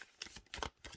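A light Mystic Faerie Tarot deck being shuffled by hand, heard as three quick, soft bursts of riffling and papery card flicks, close and quiet, with no voices.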